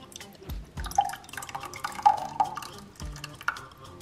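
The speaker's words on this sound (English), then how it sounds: "pour it on the bottom of the pan" Lasagna sauce is poured into the bottom of a baking pan, giving a few soft close drips and wet plops with faint kitchen handling noise and no voices.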